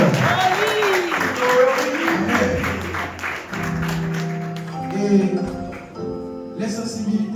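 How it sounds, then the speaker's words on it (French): During a Sunday church service, the congregation applauds steadily under sustained voices and held musical tones, with the clapping rising and falling as singing or speech carries over it. "Applaudissez le Seigneur."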